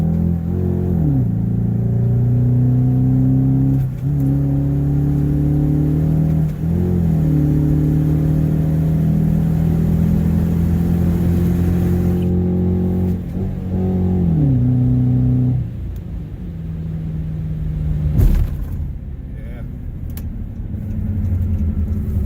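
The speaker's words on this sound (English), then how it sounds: "But as you can see, when I hit the gas, it goes." A Dodge Durango RT fitted with a Pedal Commander throttle controller accelerates hard, its engine rising loud and close through several gear changes, each shift marked by a brief dip before the revs climb again.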